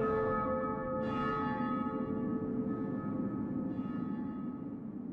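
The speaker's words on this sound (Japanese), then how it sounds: "聞きたまえ、諸君の弔いの鐘だ。" A deep funeral bell tolls in the video game Grim Grimoire OnceMore, with two resonant strikes a second apart that ring on and fade slowly.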